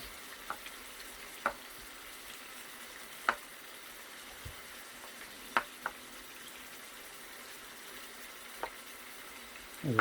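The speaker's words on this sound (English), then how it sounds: "I can let the rest melt while it's browning the rice-a-roni, rice and noodle stuff" Rice-a-Roni rice and noodles browning in melted butter in a pan, giving a soft, faint sizzle under quiet background noise, broken by a few sharp clicks and taps from stirring.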